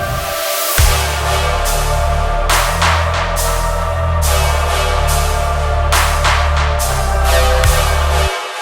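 Riddim dubstep section with a thick, gritty Reese bass held in long sustained notes under a steady drum pattern of sharp snare and hat hits, the low end cut away, loud and continuous throughout.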